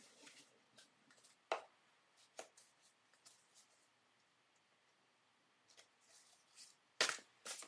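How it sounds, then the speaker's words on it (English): Tarot cards being shuffled by hand, quiet papery riffles and soft taps in scattered bursts with a couple of sharper snaps, faint and close in an otherwise still room. "Shuffle, shuffle."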